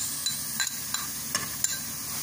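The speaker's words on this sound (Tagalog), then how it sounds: "igisa natin ang bawang sa sibuyas na hiniwa natin" Chopped garlic and sliced onion stirred in a pan while being sautéed, soft scraping strokes at a steady pace over a faint continuous sizzle, close and fairly quiet.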